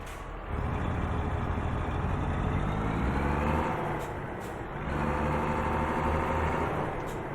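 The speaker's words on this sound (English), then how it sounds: "The truck engine sound, I pretty much turned them most of them down" A big rig's engine in the driving game American Truck Simulator drones at a low, steady rumble that rises and eases as it revs, turned down fairly quiet, with a brief hiss between pulls.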